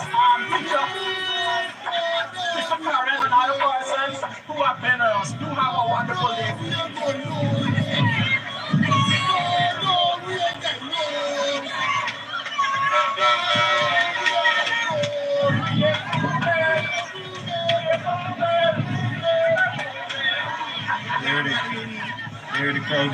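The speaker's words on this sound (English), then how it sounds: "Here the crowd is dispersing." Outdoor crowd of protesting teachers at an education ministry office in Guyana breaking up, a steady babble of many voices with nearby people talking over it throughout.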